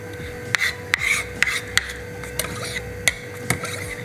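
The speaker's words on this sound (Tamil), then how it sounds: "இந்த மாதிரி கட் பண்ணிங்க." A knife cuts through raw prawns on a cutting board, giving about eight crisp, close taps at uneven intervals over a steady low background hum, with no talking.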